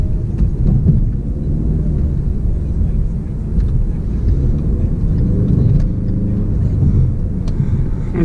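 A Ford Mustang EcoBoost's engine drones steadily as the car accelerates, a loud continuous low rumble heard from inside the cabin with no talking.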